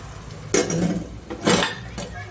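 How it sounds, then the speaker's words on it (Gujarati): A pressure cooker lid is fitted onto the cooker with two distinct metallic clanks about a second apart, close and fairly loud over a quiet kitchen background. "હવે આપણે કુકર ઢાંકી દઈએ"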